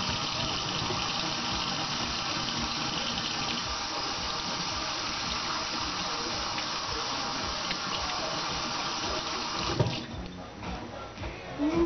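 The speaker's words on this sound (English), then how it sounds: "Next thing we got to do is we got to wash our hands." Hands are washed under a running kitchen tap, a steady loud rush of water splashing into the sink that cuts off near the end, leaving brief handling noises.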